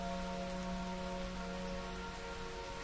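Rain falls as a steady, dense patter of drops with an even hiss throughout, under a soft sustained meditation-music tone.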